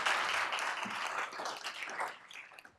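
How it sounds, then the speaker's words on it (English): A round of applause at a school board business meeting honouring the district's bus drivers, a moderate burst of clapping that tapers and thins out over a few seconds. "So let's give them a round of applause."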